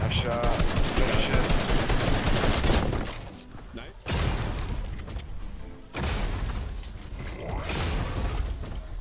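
Dense bursts of rapid gunfire and mechanical clatter from a Fortnite match, loud and continuous with brief lulls between volleys, with players' voices talking over the action.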